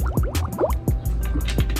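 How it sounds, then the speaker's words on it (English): Alkaline water sipped from a bottle, close and fairly loud, with a run of quick gulping, gurgling and dripping liquid sounds and a short, uneven rhythm. "Always good to start your day off drinking a bottle of water."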